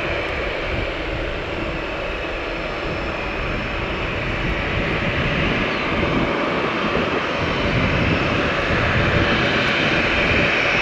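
JetBlue jet airliner taking off at Tampa airport at sunrise, a loud sustained broadband engine roar with rushing jet noise that holds steady and swells slightly as the aircraft rotates.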